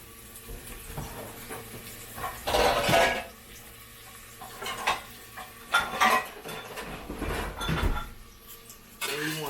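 A utensil clanks and scrapes against a pot as chicken and cabbage are stirred in Guyanese style, with irregular metallic knocks over a low sizzle.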